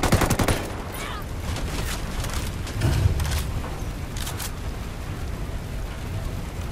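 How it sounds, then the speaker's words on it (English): Heavy gunfire from the Unidad firing on the cartel in Ghost Recon Wildlands, dense bursts at the start easing into scattered sustained shots beneath game ambience. "Unidad's firing on the cartel."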